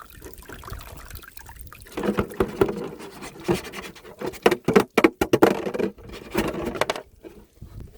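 Water glugs and splashes out of a plastic jug in an uneven pattering stream that swells to a heavy pour, then thins to a trickle.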